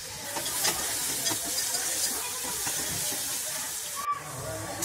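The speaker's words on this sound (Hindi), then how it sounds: "सबसे पहले हमें प्याज को गोल्डन ब्राउन कर लेना है" Onion fries to golden brown in a pan, giving a steady, close sizzling hiss with occasional stirring scrapes throughout.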